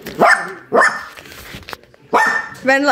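A dog nearby gives three or four sharp, loud barks in quick bursts with short quiet gaps between them, the last one slightly whiny.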